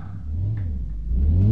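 A Bugatti Chiron engine starting in the VR driving game City Car Driving, a deep low rumble that swells and rises in pitch into a rev, loud and close with no speech.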